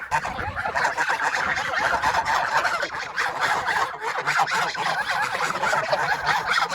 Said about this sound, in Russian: О, гуси.